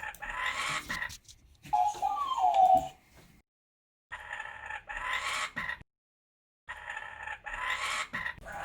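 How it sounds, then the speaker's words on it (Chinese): A kookaburra calls in a Western Australian forest south of Perth, loud raucous laughing bursts in three long bouts separated by brief silences, close and clear with no talk. "这个笑翠鸟非常可爱。"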